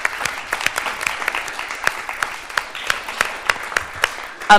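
A conference audience applauds at the close of a session on migration policy, sparse but steady individual claps ringing out in a moderately sized room, with no talking over them.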